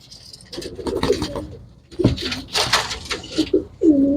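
Pigeons cooing up close, several soft throaty coos mixed with rustling and brief fluttering noises.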